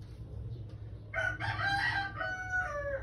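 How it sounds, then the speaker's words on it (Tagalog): A rooster crows loudly and nearby, its long strained call rising and wavering over a low steady background hum. "Ingay ng manok, diba?"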